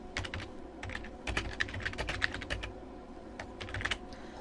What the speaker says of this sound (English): I'm going to type in my article name